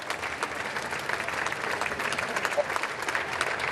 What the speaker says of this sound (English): Now applause echoes as he leaves and heads towards Buckingham